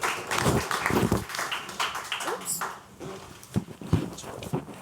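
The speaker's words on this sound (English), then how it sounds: "That clap went a long way, didn't it?" Applause and clapping from a small group recognizing someone's achievements at a meeting, a burst of hand claps with scattered taps, fairly close, fading and returning in short bursts.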